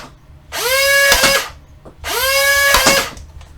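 Modified Nerf Stryfe blaster with a twin-stage flywheel kit, its motors whining up twice in sharp rising bursts with dart shots cracking through each burst. The close, loud bursts are separated by a short pause, with no talking.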